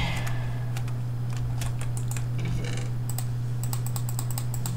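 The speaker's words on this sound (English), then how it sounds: "I'm just shift-clicking everything that I can to see." Computer keyboard clicking while playing a game, rapid irregular key taps with a run of quick repeated presses near the end, over a steady low hum.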